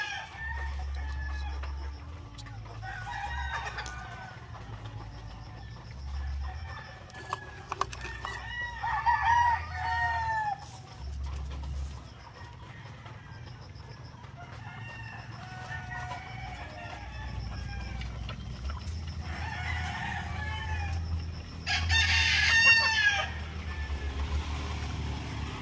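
Farm chickens cluck steadily while a rooster crows, with a crowing burst near the end and low engine rumble underneath; a brief voice is heard.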